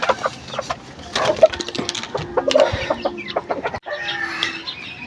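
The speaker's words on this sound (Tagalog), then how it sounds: "Baka nagtataka kayo kung bakit naandun na naman yung tandang" Chickens and a rooster cluck at a farm, a steady scatter of close clucks and calls of moderate loudness, with no talk over them.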